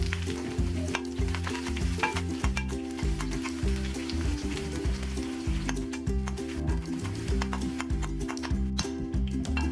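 Shallot spluttering with mustard seeds in hot coconut oil for a papaya curry tempering, continuous close sizzling and crackling with scattered sharp pops and ticks of stirring, no voices.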